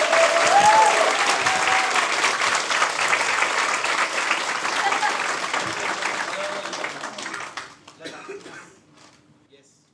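Audience applause at a closing ceremony of the Fauntastic 2022 convention, a loud, dense crowd clapping that holds steady for about eight seconds, then thins out and fades away, with a few voices mixed in.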